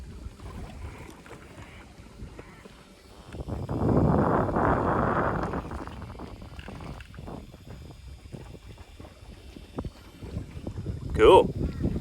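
A Watersnake electric motor pushes a Sevylor Colossus inflatable boat into the wind, making a low hum over heavy wind buffeting on the microphone and lapping water. Engine and wind noise swell in the middle, and a person speaks briefly.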